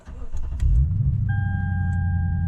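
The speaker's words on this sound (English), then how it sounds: "Got that nice V8 rumble." A Lexus IS F V8 rumbles steadily from inside the moving car, a deep and loud low drone that swells early on and then holds, with a thin tone appearing partway through.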